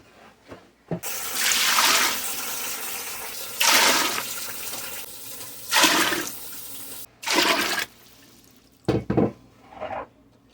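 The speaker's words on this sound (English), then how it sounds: "So first things first, I'm going to put some water in here." Water gushes from a tap into a metal canner in several loud bursts, stopping and starting, with splashing and brief pauses between.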